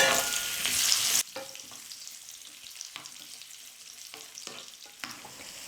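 Cashews and raisins frying in a pan for a sweet made with raw rice: a loud sizzle for about a second, then softer steady crackling with light stirring scrapes, no talking.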